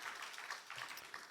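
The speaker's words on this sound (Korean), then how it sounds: "하나님께 영광 박수 올리겠습니다" Church congregation at a Korean Sunday evening worship service claps briefly in praise, a short, steady burst of applause filling the hall.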